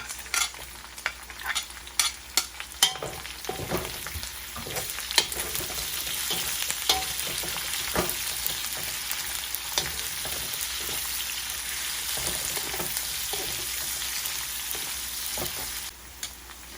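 Onions sizzle in a hot pan for pancit bihon, with steady frying hiss and frequent scraping stir strokes, close up and without talk.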